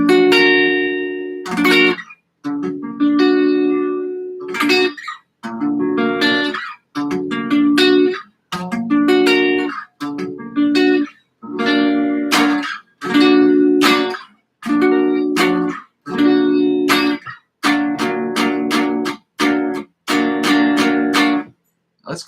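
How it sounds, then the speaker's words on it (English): Rhythm guitar chords strummed in steady short bursts with brief gaps between them, a full harmonic ring on each stroke, close and fairly loud with no voice. "Now we're going to do the rhythm chords."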